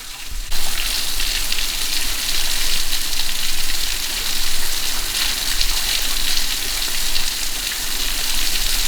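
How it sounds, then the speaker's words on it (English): A dense, continuous hiss of rushing water with splattering texture, steady and fairly loud throughout, with no voices. "Raging water is still a neat thing."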